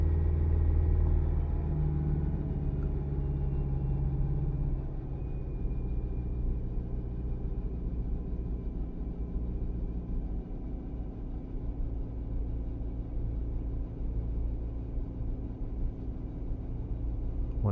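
A 2013 Kia Sorento 2.4L engine with a stalling, rough-running fault drones steadily, the RPM held up in a heavy low rumble that eases slightly after a few seconds and then holds constant, close by.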